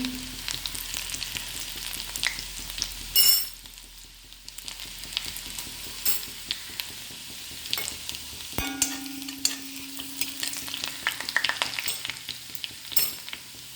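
Chopped garlic and small shallots fry in hot oil with popping mustard seeds, a continuous close crackle and sizzle with scattered spoon scrapes and a couple of louder clatters.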